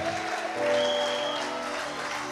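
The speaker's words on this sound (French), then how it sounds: "Tes acclamations sont faibles." A worship congregation applauding and cheering during a French sermon; continuous, fairly loud clapping and crowd noise over sustained keyboard chords.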